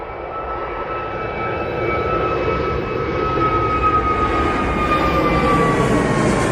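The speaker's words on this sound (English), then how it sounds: "So this is Jet 2, A321neo to Rhodes." A Jet2 Airbus A321neo at Manchester Airport gives off a loud, steady jet engine roar with a faint whine above it, slowly building in strength over several seconds.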